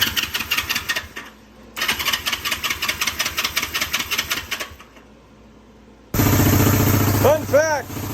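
A Honda CB360 motorcycle engine cranks in rapid rhythmic bursts, pauses, cranks again, then catches and runs with a loud rough idle and revving near the end; a voice exclaims over the running engine.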